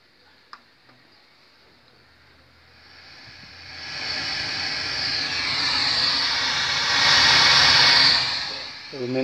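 An old radio on the FM band gives off a broad hiss of static that swells up from quiet after a few clicks of the controls and holds loud and steady.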